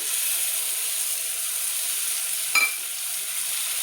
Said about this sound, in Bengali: তো এবার আমি কাজু বাদাম বাটাটা দিয়ে দিলাম